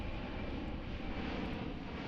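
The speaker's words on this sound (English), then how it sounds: "that's the U.S. Air Force C-17 Globemaster" A U.S. Air Force C-17 Globemaster jet at the Miramar Air Show passes overhead: a loud, steady, broadband engine roar that fills the whole moment without letup.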